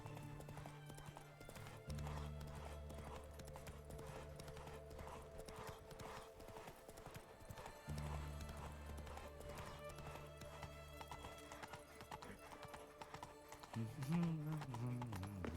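Horse hooves clip-clop steadily in The Witcher 3, faint beneath game music and ambience, with a brief whinny and someone talking over it.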